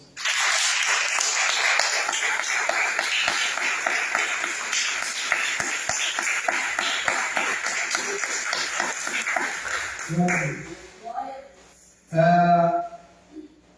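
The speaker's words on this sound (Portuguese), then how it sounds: "Dá uma salva de palmas para Jesus." Church congregation clapping during a sermon, a sustained round of applause for Jesus that holds steady for about ten seconds, then stops abruptly as voices and a brief burst of sound follow.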